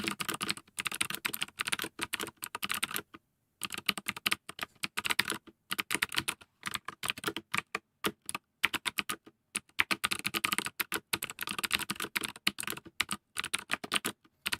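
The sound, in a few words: typing code on a computer keyboard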